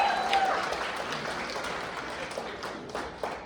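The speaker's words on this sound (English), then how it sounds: "That's right, give him a round of applause." Guests applaud at an awards gala in a banquet hall, a moderate round of clapping that thins out over a few seconds, with crowd voices mixed in.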